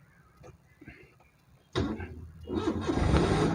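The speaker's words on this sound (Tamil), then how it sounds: "இப்போ இன்ஜின் ஸ்டார்ட் ஆகிட்டு" A car engine cranks and catches with a sudden roar, then settles into a steady running rumble up close; faint voices precede it.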